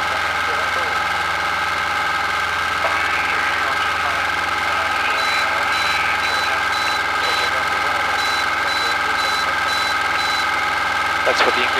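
Evenly spaced high-pitched aircraft navigation beeps repeat over a steady engine drone in a light aircraft cockpit, starting partway through and continuing in a regular rhythm.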